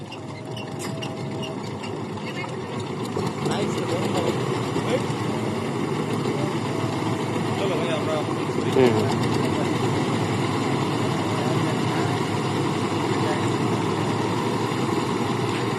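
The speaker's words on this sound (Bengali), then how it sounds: "এখন ইঞ্জিন চালু দেওয়া হবে।" An engine-powered boat's motor runs with a steady chugging rumble that rises slightly in level early on and holds constant throughout, while voices talk over it in the evening outdoors.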